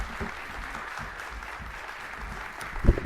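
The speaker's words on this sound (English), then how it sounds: "Another round of applause." Light applause from a civic audience at a city state-of-the-city event, a soft, steady patter of clapping that holds through the moment and swells briefly near the end.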